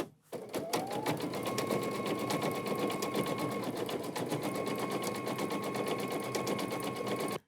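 An embroidery machine stitches a quilted fall leaf accent in the hoop, a steady rapid needle chatter running nonstop with a faint whine under it, close and alone.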